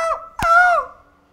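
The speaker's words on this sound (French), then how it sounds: "On entend les mouettes." Two loud, close honking calls from gulls, the second sharper and longer with a quick drop in pitch, then fading away.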